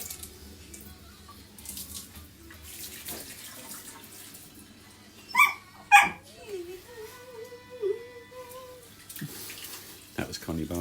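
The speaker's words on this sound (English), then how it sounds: "First we need to wash our hands though." A kitchen tap running while hands are washed, a soft steady trickle under quiet background, with a dog barking sharply a couple of times in the middle and a voice briefly speaking.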